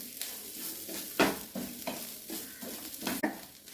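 Half a spoon of pepper powder lightly roasted in a pan for coconut rice, giving a soft sizzle broken by repeated scraping stirs of a spoon, close and moderately quiet.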